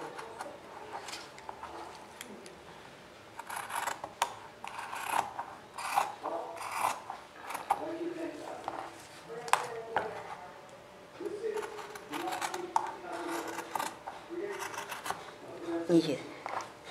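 Scissors cutting material for a handmade winter shoe, with repeated soft rasping snips and rubbing scattered across the clip at low volume, with some quiet talk.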